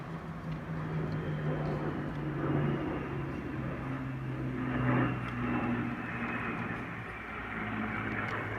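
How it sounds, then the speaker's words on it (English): Formation heritage flight aircraft make a flyby at an airshow, a steady broad engine roar with slowly shifting drone tones, sustained and moderately distant throughout with no talk. "Here, just to top it off, a little bit more formation heritage flight."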